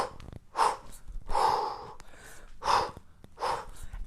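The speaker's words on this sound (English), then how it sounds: "it's going to be the same breathing as we did in the snatch" Kettlebell sport breathing during single-arm swings and cleans: forceful, breathy exhales come in a steady, evenly spaced rhythm, close to the microphone, with quiet gaps between them.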